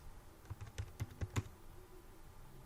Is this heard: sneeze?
no